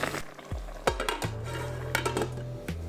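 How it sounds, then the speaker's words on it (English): Meatballs being stirred into sauce in a pan, with a utensil clinking and scraping against the pan over a soft simmering sizzle, close up with a few distinct knocks. "I'm gonna mix the meatballs in with the sauce"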